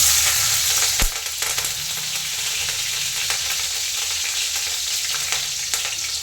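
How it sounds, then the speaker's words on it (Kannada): Finely chopped green chillies fry in hot oil for egg bhurji, giving a loud, continuous crackling sizzle close by, with one sharp knock near the start and a few faint clicks. "ಎಣ್ಣೆ ಕಾಯ್ದಾದ್ಮೇಲೆ ಮೆಣಸಿನ್ಕಾಯಿನ ಹಾಕ್ಬೇಕಾಗುತ್ತೆ"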